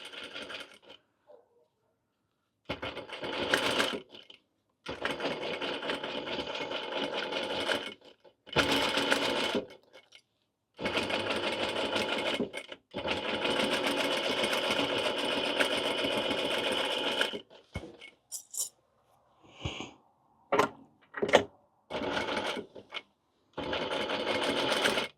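A sewing machine stitches fabric for a witch hat with cat ears, running in several bursts of steady whirring and rattling separated by short pauses, close and clear, with brief start-stop runs near the end.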